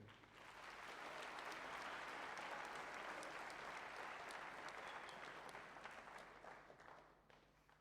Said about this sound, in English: please give the biggest round of applause for you